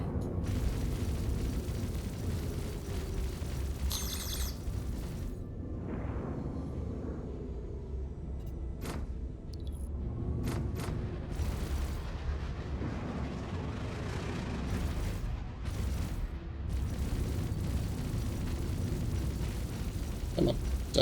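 Aircraft cannons fire in an air-combat video game, heard as scattered sharp bursts and booms over a steady low engine rumble, with no talk.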